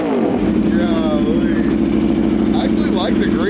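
A green hyper naked sport motorcycle runs steadily nearby, its engine giving a continuous loud, throbbing drone throughout, with faint talk in the background.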